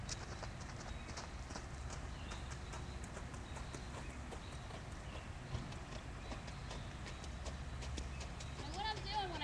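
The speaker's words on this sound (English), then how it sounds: "So to pick up my trot, I'm going to squeeze my leg one more time" A ridden horse is asked to pick up a trot, its hooves clip-clopping in a steady rhythm on the ground, fairly faint and continuous, with a rider talking over it.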